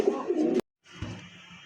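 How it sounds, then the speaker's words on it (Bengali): Pouter pigeons offered for sale, including a black magpie pouter, give soft throaty coos close by, broken by a short gap of silence before quieter cooing and light background noise resume. "মাশাআল্লাহ ব্ল্যাক ম্যাকপাই পটার কবুতর"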